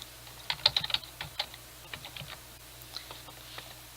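Someone types a password on a computer keyboard, a quiet, close, irregular patter of light key clicks in short bursts with gaps between them.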